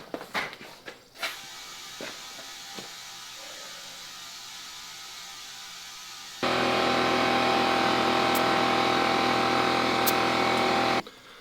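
A remote air chuck on a backhoe tire starts after a few clanks and knocks, then gives a loud, steady hiss of rushing air that lasts several seconds before cutting off.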